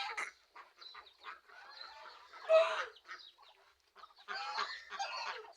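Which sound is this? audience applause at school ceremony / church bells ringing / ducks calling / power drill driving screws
ducks calling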